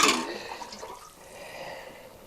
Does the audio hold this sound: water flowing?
yes